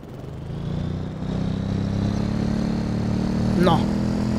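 A motorcycle engine in a motocross video game hums steadily at idle, loud and constant, with a brief chirping rise near the end and no clear voices over it.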